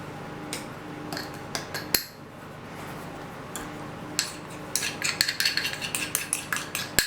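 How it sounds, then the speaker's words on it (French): Flour, baking powder and cornstarch are mixed together in a bowl. Scattered metal clinks and scrapes give way to a quick run of rhythmic whisk taps against the bowl near the end, with no one talking. "la première opération, ça va être justement de mélanger tous les poudreux, c'est-à-dire la farine, la levure chimique et la maïzena"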